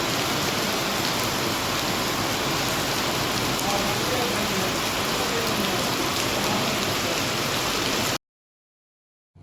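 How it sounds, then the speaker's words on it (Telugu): Heavy rain pours in a loud, continuous roar for about eight seconds, then cuts off abruptly to silence. "వర్షం అయితే చాలా చాలా బోర్న పడుతుంది"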